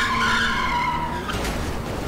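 In GTA V a car's tires squeal in a skid that fades into a rough, noisy scrape, loud and close, lasting about two seconds with no voices.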